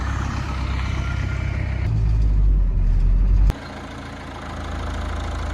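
A pickup truck's engine rumbles loudly and close on a ranch, its low drone swelling as it pulls away, then dropping abruptly to a steadier, lighter hum on the road.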